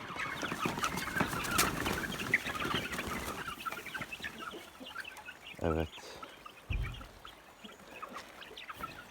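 Chickens on a chicken farm coming out to feed, a busy mix of clucking and chirping calls close by, with occasional louder squawks and a person speaking softly among them.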